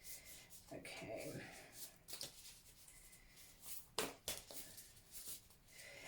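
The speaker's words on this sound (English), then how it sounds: "Oh, can't I shuffle these cards?" Tarot cards are shuffled close up in soft, papery riffles and rubs, scattered across the moment with a few sharper snaps, quiet and intimate beneath occasional murmured speech.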